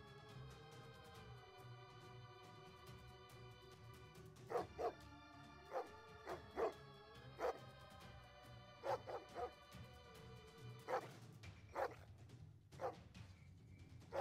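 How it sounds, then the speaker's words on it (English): Dog barks played as a sound effect, a series of short muffled woofs spaced irregularly over a steady droning tone, faint and distant-sounding. "I hear dogs. You hear a dog."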